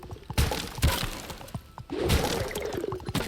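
Objects smash and shatter in SpongeBob SquarePants: The Cosmic Shake, with several sharp breaking crashes in quick succession, loud and close, followed by a splashing, pouring rush of water.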